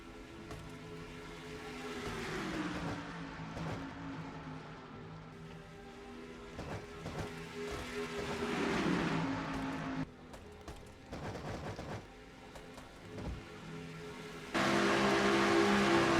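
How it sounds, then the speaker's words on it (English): A stock car engine roars in a racing video game, a steady droning hum that rises and falls as the car laps, with a louder, harsher stretch near the end. "You're on board Seth Cole's car in car number 52"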